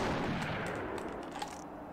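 A gunshot in the horror shooter The Thing, a loud close blast at the start, its broad rumbling noise trailing off over two seconds with a few faint clicks.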